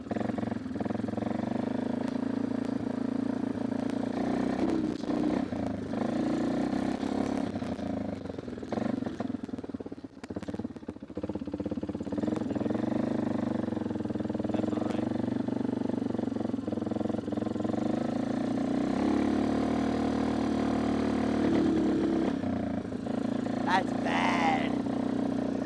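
A dirt bike engine drones steadily close by, its throttle held open and then easing off, while voices talk over it.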